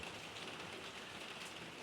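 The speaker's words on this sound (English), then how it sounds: "Well, that was pouring. That's about as heavy as it ever rains here." Heavy rain pours down steadily in a Pacific Northwest rural setting near Port Angeles and Sequim, a dense, continuous hiss of drops drumming on surfaces, even and unbroken throughout, with no voices.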